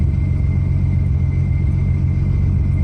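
A Toyota Supra engine under hard acceleration, a steady, deep, loud rumble from inside the car with no breaks. No voices are heard over it.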